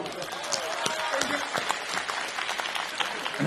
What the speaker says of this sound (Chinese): 非常 掌声鼓励